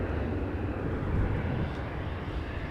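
A KLM Boeing 737 jet airliner at Amsterdam gives off a steady, moderate engine rumble heard at some distance, even and unbroken throughout.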